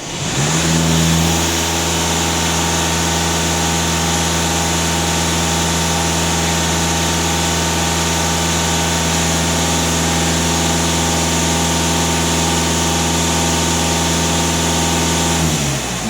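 A Volkswagen Passat B8 engine idles steadily in a workshop with a smooth, even drone and faint whine, close and unchanging until the engine shuts off near the end.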